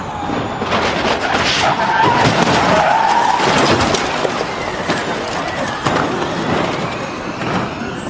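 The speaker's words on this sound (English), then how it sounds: "A huge accident on the Dottinger Höhe as cars are scattered left and right into the barrier" Race cars crashing into the barrier on the Döttinger Höhe at the Nürburgring, a loud, continuous roar of engines, skidding tyres and scraping impacts, with sharp bangs scattered throughout and no voices.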